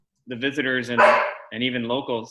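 A house dog gives a short, loud bark or yelp in the middle of a person speaking during a village trustees meeting, with talk before and after it.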